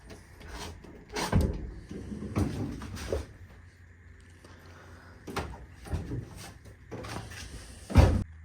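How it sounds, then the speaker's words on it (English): Rear doors of a service van being shut, several hollow clunks and thuds with rattling latches spaced over a few seconds, fairly close in a quiet interior with no talking. "Close the back doors."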